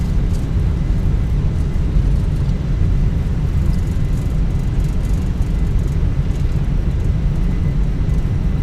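Airliner in a flight simulator game on its landing rollout with thrust reversers out, an Air Canada Rouge flight arriving at Quebec City: continuous loud engine and wind roar, steady throughout.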